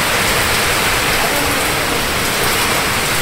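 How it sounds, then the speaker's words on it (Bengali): Heavy rain driven by wind on a veranda of a Bangladeshi village home, a dense, loud, unbroken hiss of downpour filling the space with no pauses or voices. "যেমন বৃষ্টি তেমন বাতাস"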